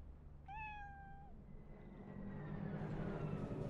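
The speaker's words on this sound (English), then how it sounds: "you can actually pet a cat" A cat in Cyberpunk 2077 gives one clear, fairly long meow while being petted, close and alone, followed by a low hum of game background ambience.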